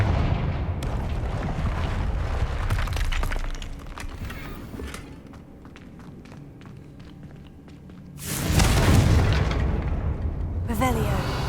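A fiery Confringo spell explosion in Hogwarts Legacy bursts loudly partway through over rumbling game ambience, followed by a second sharp blast near the end.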